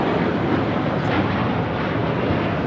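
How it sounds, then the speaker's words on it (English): A United Airlines Boeing 787-9 Dreamliner roars on takeoff at LAX, bound for Tokyo Narita, as a loud, steady broadband engine rumble with wind buffeting the microphone throughout this short stretch. "This is United Airlines Flight 32 taking off to Tokyo Narita on the 787-9 Dreamliner."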